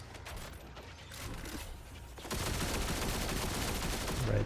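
Rapid enemy gunfire crackles in Destiny 2 in the Chamber of Starlight lost sector, with snipers shooting from above; a steady stream of overlapping shots grows denser and louder partway through, with no talk.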